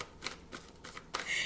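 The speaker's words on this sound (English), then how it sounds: "I shuffle these cards before and after every single reading." Tarot cards riffled and shuffled by hand in quick soft bursts, four or five brisk flutters in a quiet room.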